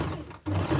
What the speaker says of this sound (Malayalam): ഇവിടെ വലിയ സ്റ്റിച്ച് നമ്മൾ ഈ വരച്ച് കൊടുത്ത ഇതിൽ കൂടെ നമുക്ക് വലിയ സ്റ്റിച്ച് എടുത്തിട്ട് ഒന്ന് തയ്ച്ചെടുക്കാം